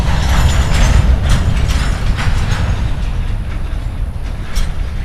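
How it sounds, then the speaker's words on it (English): A Norfolk Southern freight train leaving DeButts Yard rumbles loudly up close as it takes out slack, couplers clanking and banging in a rolling sequence, with rhythmic metallic knocks over a heavy low roar. "As our outbound train takes out the slack, heading towards Sheffield"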